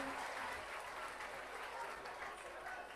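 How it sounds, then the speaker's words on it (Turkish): An audience at a school folk-song competition in Artvin applauds the mayor with a steady, dense wash of clapping heard from some distance, with a brief speaking voice faintly present. "Tabi alkış hak ediyor başkanımız"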